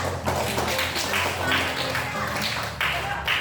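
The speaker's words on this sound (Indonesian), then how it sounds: "tepuk tangan dulu untuk Risa" Students in an Indonesian university teaching-practice class clap for a classmate named Risa, the applause steady and moderately loud beneath overlapping voices and room chatter.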